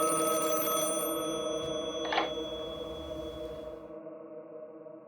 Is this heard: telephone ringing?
yes